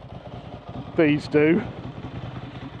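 A rebuilt air- and oil-cooled Ducati Hypermotard idles close by with a steady low throbbing pulse, while a voice briefly talks over it.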